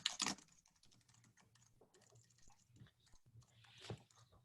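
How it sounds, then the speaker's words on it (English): Fingers tap quietly on a computer keyboard in a series of soft, irregular clicks. A sharper knock starts it, and a faint hum sits underneath. "I'm just typing it in for our Facebook friends."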